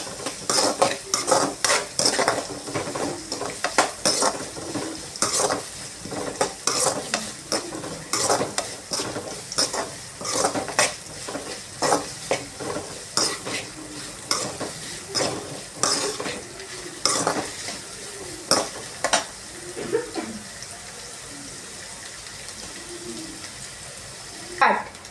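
Onions fry on a high flame in a pan for a Tamil-style chicken gravy, sizzling steadily while a spatula scrapes and clacks against the metal in a quick, uneven rhythm, close and loud.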